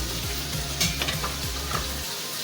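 Coriander and green chillies frying in masala for a mash dal with yogurt dish, a continuous sizzle with a low rhythmic hum and a few stirring clicks, close up and without voices.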